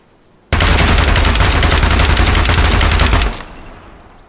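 Sustained automatic gunfire from a weapon being recoil-tested in Gunsmith Simulator, a loud, dense burst of rapid shots lasting about three seconds before cutting off into a fading echo.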